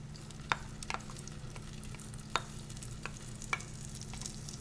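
Pollock roe frying in butter in a pan, a steady soft sizzle with a few sharp scrapes and taps of a stirring utensil against the pan, no talking.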